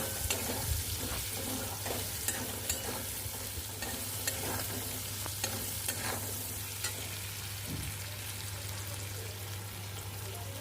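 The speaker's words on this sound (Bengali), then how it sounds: "এবার এইগুলো সবগুলো একসাথে এই মশলাগুলো মিশিয়ে নিলাম।" Turmeric and other spices mixed together in a hot pan, a close steady sizzle with repeated scraping and tapping stirring strokes over a low hum; no talk.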